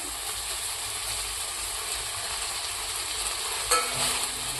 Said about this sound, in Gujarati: હવે આપણે જે આ રોટલીને કટિંગ કરેલું હતું એ નાખીશું